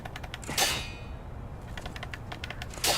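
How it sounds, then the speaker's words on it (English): Repeated clicking of an attack button being mashed while playing Lies of P, rapid taps in quick bursts with two louder sharp clanging hits standing out, fairly faint overall. "That's the sound of me spamming the attack button."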